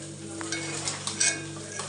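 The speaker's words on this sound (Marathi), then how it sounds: "सगळे मसाले आपण आता एकदा परतून घेऊया" Spices frying in a pan for masala rice, a soft continuous sizzle with several scraping spoon strokes as they are stirred, fairly quiet and close.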